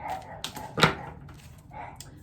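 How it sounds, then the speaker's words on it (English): Dogs at a house bark at a visiting dog out front, giving one sharp loud bark among quieter yips and whimpers over a couple of seconds. "I think there's a dog at the front of the house that comes to pay a visit."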